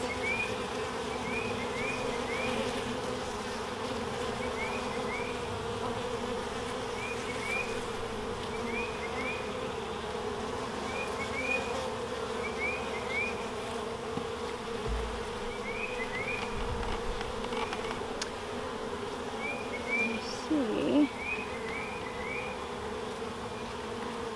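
Honeybees buzz steadily around an open hive while frames of nectar are inspected, a dense continuous hum with brief higher whines of single bees passing close.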